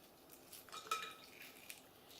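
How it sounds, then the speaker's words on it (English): A hard-boiled egg rolled on a table to crack its shell makes a quiet, brief crunch of small crackling clicks, close and faint, with one sharper tick near the middle and no voice. "I'm ready to crack open the egg, so I'm just going to roll it on the table"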